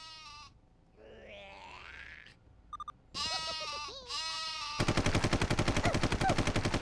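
Sheep weapon in the Worms Ultimate Mayhem video game, a cartoonish bleat among synthetic game effects, followed by rapid machine-gun-like firing at the end.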